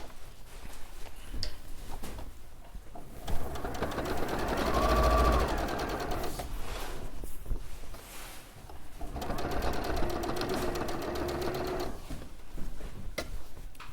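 A sewing machine stitches a seam on a floral turtle cushion, running close and steady in long stretches with brief pauses between them.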